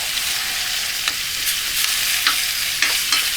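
Seasoned meat sizzles in a pan, a steady bright hiss with occasional sharp crackles and spatter pops as it is stirred, close and alone without talk.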